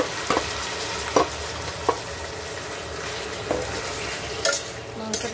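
Marinated meat frying in a wok with golden-brown onions, giving a steady loud sizzle broken by several sharp scrapes and clatters of stirring.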